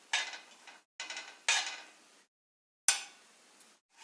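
Cashews and raisins sautéed in ghee in a pan for badam rava kesari, heard as a few short bursts of clinking and scraping from a spoon against the pan, separated by brief silences.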